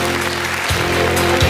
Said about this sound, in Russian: Вот ваши бурные аплодисменты.